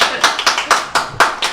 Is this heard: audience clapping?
yes